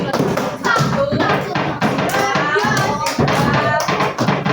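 Children's hands tap and slap on classroom desks in repeated counted bursts, close and lively, with a teacher and kids talking over the rhythmic thumping.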